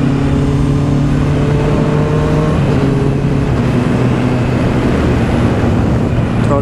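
A Honda CB650R motorcycle engine is heard while riding, loud and close, holding a steady drone before a short dip in pitch as it shifts gear without the clutch, then pulling on with constant wind rush.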